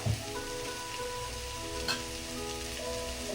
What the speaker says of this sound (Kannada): ಈ ಹಂತದಲ್ಲಿ ಹಾಕಿದ್ರೆ ಆನಿಯನ್ನು ಸ್ವಲ್ಪ ಫ್ರೈ ಆಗುತ್ತೆ